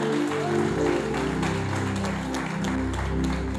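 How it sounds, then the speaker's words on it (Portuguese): A church congregation claps along during a worship service. Dense, steady applause runs throughout over sustained low musical tones. "Aplauda o Senhor nessa noite"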